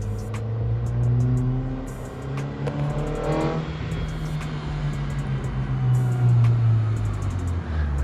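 Datsun 620 pickup with a swapped BEAMS engine accelerating on a first drive, a loud droning engine note rising and falling through gear changes, heard from close by.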